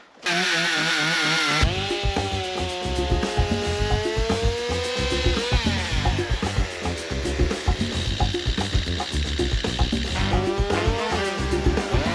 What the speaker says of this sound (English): Let's get the chainsaw.